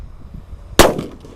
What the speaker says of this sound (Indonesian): Kalau ini mercon petir yang buntelan kertas, kita lihat ya.